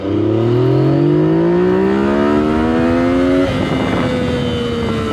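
A Yamaha MT-09 (FZ-09) with a Two Brothers full exhaust system revs hard in first gear and climbs steeply in pitch, close and loud, then eases off and settles into a steady drone.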